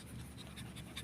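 A Japanese Shih Tzu puppy pants quickly and steadily close by, the quiet huffing breaths repeating in a fast rhythm over a faint background hum.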